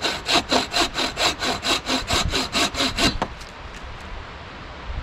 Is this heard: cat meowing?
no